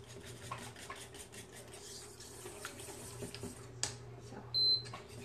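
Warabi mochi stirred in a pot as it heats, a steady run of soft scraping and clinking of utensil against cookware, fairly quiet and close, with a brief sharper clatter near the end.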